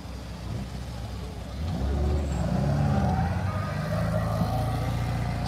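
A nearby rally car with a straight-cut gearbox accelerates with a whining, rising gear tone over steady engine rumble, swelling in loudness midway and holding strong to the end.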